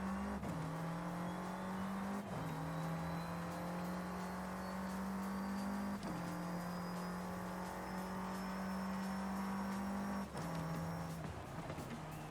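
Race car engine in Forza Horizon 5 winding up at full throttle through the gears, a loud sustained drone rising in pitch with brief dips at each upshift, about four shifts, alone without talk.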